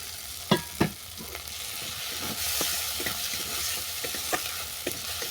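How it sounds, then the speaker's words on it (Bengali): Crab pieces hit hot oil and spice masala in a pan for a Bengali crab dish, giving a steady hiss of sizzling with a few sharp knocks and scrapes from stirring near the start and later. "মশলাটাকে ভালো করে কষিয়ে নেওয়ার পর তুলে দিলাম কাঁকড়া।"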